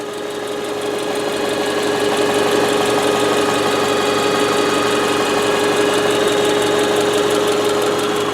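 A 2000 Subaru Forester S engine idles steadily at close range, a continuous rumbling hum with a faint rhythmic knock and no talking.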